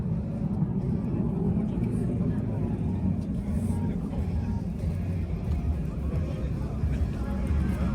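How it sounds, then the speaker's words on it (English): Aircraft fly over an air show held alongside a car show in Japan. A broad, steady engine rumble and roar holds throughout, mixed with the background din of the event. "we also have an air show going on here too, so we'll show you that as well"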